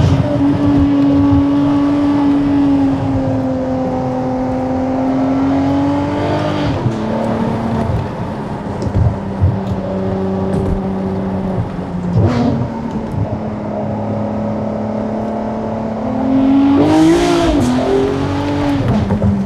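Ferrari 599 GTO V12 engine on a bumpy open mountain road, heard from inside as a loud, steady drone that rises and falls with gear changes and revs, with a sharp rev surge near the end.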